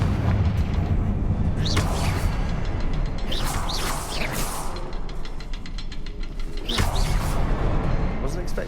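In Hogwarts Legacy, a Confringo spell blasts spider webs with a loud fiery boom and whooshing crackle, followed by a second burst, while a voice speaks over the game sounds.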